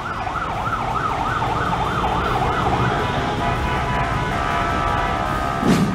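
A wailing ambulance siren sweeps up and down over steady, dense traffic rumble near an underpass, then fades out as the vehicles keep droning.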